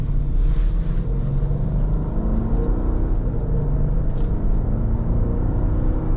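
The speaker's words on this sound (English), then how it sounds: "V8 definitely fun to ring out" A 2013 Mercedes-Benz GL450 V8 engine accelerates on an open road, heard from inside the cabin as a steady, loud low rumble that holds without a break.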